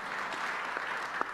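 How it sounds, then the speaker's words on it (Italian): A crowd at the BIT tourism fair in Milan applauds Roberto Mancini, a soft, even patter of many hands clapping, heard from a distance for just over a second. "fate un applauso a Roberto Mancini"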